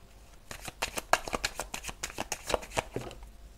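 A deck of tarot cards being shuffled and cut, with a rapid run of crisp, riffling card flicks and slaps up close, loud and clear with no voice over them.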